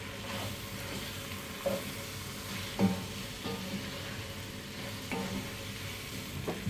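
Spices stirred together in a cooking pot with a spoon, including a generous amount of turmeric, giving a steady low sizzle with occasional soft scrapes and knocks of the spoon against the pot, close and alone without talk.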